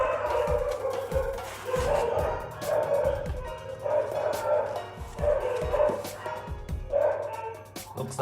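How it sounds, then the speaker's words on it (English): Dogs bark repeatedly at home, a series of loud, close yips and woofs in irregular bursts, with whimpering between them and a steady background hum underneath. "Dogs and kids, very loud."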